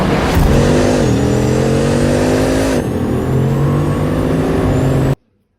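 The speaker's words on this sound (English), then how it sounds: "A Bugatti Chiron." A Bugatti Chiron supercar accelerates hard, its engine note rising and shifting through gears as it builds speed, loud and close for about five seconds before cutting off abruptly.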